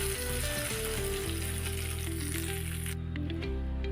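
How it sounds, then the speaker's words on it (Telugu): Hot tempering for peanut chutney gives a steady, loud sizzle and crackle with no break, cutting off sharply in the highs near the end as the hot oil settles. "ఈ పోపుని మనం చట్నీలో వేసుకుందాం"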